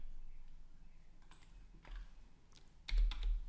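Quick, sparse keystrokes on a computer keyboard as the ipconfig command is typed, light clicks scattered over a quiet room, ending in a louder cluster of keypresses.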